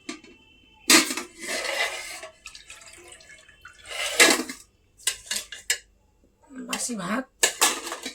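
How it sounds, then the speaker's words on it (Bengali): A plate being washed at a sink, with loud close clatters of metal dishes and cutlery in bursts amid running water drips, while someone talks between the clanks. "থালাটা ধুয়ে নিই আমি"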